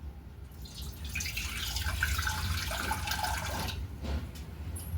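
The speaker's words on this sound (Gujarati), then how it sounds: "એમાં પાણી મૂકવાનું છે." Water is poured into a small pot for making Maggi noodles, a close, steady splashing pour lasting a few seconds and then tapering to trickles and drips.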